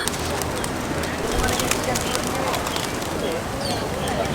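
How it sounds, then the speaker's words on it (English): Crowds of pigeons at Batu Caves temple in Malaysia coo and flutter continuously, a dense, busy layer of low calls and wing sounds with people talking nearby. "there are so many birds here, so many pigeons"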